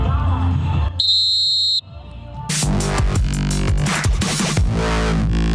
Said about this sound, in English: that whistle means it's go time.